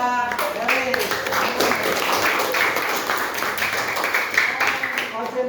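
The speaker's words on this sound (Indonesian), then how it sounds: "Ayo, tepuk tangan buat Deris." Classroom full of pupils clapping for a classmate during a lesson, a brisk scattered round of applause mixed with children's voices and chatter throughout.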